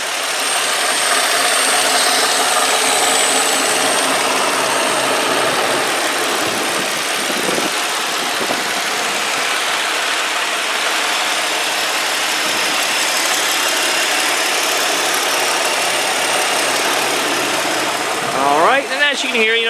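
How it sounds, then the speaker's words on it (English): A 2003 Nissan Maxima GLE V6 engine idles steadily up close, a smooth continuous hum with light mechanical whir, briefly punctuated by a rising whine near the end. "so I'm just going to be quiet and let you listen to the motor."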